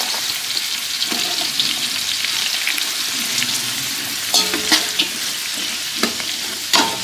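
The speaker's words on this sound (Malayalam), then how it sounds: "ഈ സവാള ആദ്യം നന്നായി വഴന്ന് കിട്ടണം. അപ്പോൾ അതിനുവേണ്ടി സവാള ഇടാൻ പോവുകയാണ്." Sliced onions sizzle and fry in a pan for mutton biryani, a steady close crackle with occasional stirring clinks and scrapes against the pan, and no voices.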